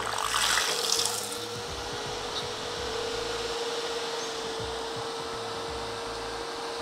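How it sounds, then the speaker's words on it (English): Water sprays onto the CPU cooler inside an HP ProLiant ML110 G6 server PC, a loud, constant hiss joined by a steady fan-like hum and a brief splashy burst at the start. "It's literally throwing water all along the CPU cooler and nowhere else."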